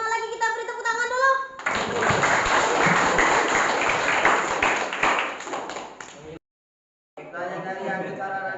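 A school class claps together in a burst of loud, dense applause lasting several seconds, framed by a teacher's speech before and after.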